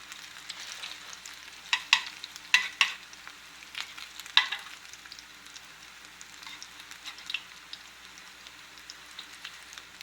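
Diced onion patties fry in grease with a steady, soft sizzle, broken by a few sharp crackles and pops in the first half, close and moderately quiet, with no voices.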